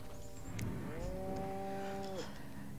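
A cow lets out a single drawn-out moo in the video game Destroy All Humans, clear and fairly close over a faint background.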